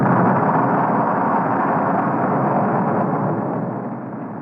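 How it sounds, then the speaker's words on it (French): A deep, sustained roar from the detonation of the Soviet RDS-37 two-stage thermonuclear bomb rumbles loud and continuous, slowly fading toward the end. "ils testèrent la première bombe thermonucléaire soviétique à 2 niveaux, la RDS-37"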